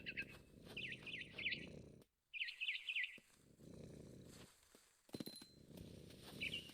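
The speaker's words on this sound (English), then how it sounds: "I tried to be quiet, but the bird was really scared." In the video game What Remains of Edith Finch, a frightened bird chirps in repeated short bursts of tweets over a soft, low rumbling purr, broken by brief silences.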